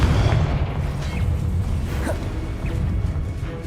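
A Confringo blasting spell explodes in the Hogwarts Legacy video game, a heavy, rumbling boom whose deep roar hangs and trails off with crackling debris.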